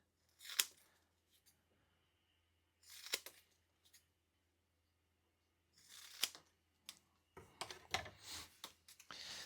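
Spare 3D printed plastic pieces being cut for a bike aero cockpit: a few sharp, separate snips spaced seconds apart, then a quicker cluster of cuts at the end, close and quiet in a still room.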